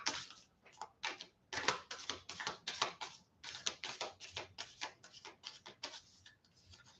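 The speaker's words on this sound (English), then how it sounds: "I am still going to shuffle, right? To get one out." A deck of tarot cards being shuffled up close, a quick series of crisp riffling bursts and flutters in an uneven rhythm with brief pauses between passes.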